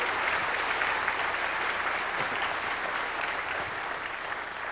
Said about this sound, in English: can I get a round of applause for Beetle's crazy PowerPoint foo?